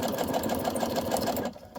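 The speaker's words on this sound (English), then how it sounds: "tucking it up underneath the presser foot, stitching into the pleat," A sewing machine stitches pleats in fabric for a bag topper, its needle chattering in a fast, even rhythm up close before cutting off near the end.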